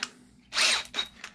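A drill fitted with a 2.5 mm bit bores a pilot hole in the wooden fuselage framing of a large Pitts Special model aircraft, a short close whirring burst followed by two brief pulses.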